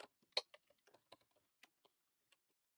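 Fingers type on a computer keyboard in sparse, uneven keystrokes, quiet and close, with one sharper tap near the start and long gaps between the later presses.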